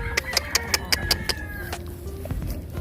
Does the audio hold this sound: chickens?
yes